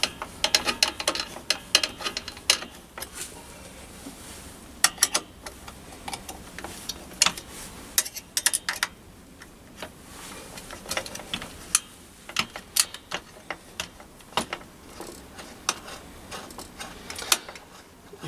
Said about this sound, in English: And then it's just a case of loosening the Allen bolts.